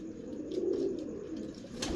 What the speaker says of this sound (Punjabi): ਇਹ ਮੇਰਾ ਜ਼ਿੱਦੀ ਕਬੂਤਰ